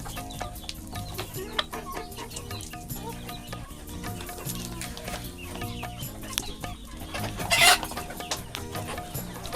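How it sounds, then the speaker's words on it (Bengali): Desi (native) chickens cluck steadily while eating paddy grain amid a busy farmyard clatter, a constant low bustle with one louder burst near the end; no one speaks. "এগুলো আমার দেশি মুরগি সকালবেলা তাদেরকে খেতে দিলাম"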